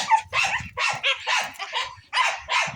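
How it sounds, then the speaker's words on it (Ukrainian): Several dogs bark in close, rapid succession at a rural homestead, a loud overlapping run of barks and yips with almost no pause between them. "Я думаю, чого вони гавкають?"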